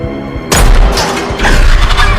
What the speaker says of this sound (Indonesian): memanfaatkan bahan bakar untuk diledakkan dan membakar alien